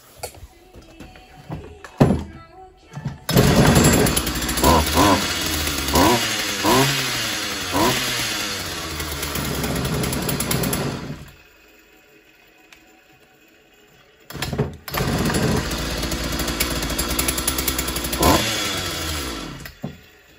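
A small two-stroke engine runs loudly, revving up and down, cuts out for a few seconds, then starts and revs again.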